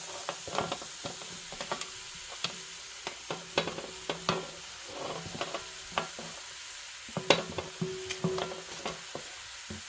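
Marinated pork being stirred with browned onions in a hot pan, repeated scraping strokes and utensil clatter over a continuous sizzle, close and fairly quiet.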